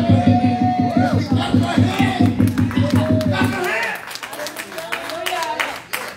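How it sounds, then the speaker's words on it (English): A church congregation at a Friday miracle night service claps hands in a fast steady rhythm, with loud crowd voices and singing over the first half, then the clapping carries on under a preacher's voice. "Come on, clap your hands."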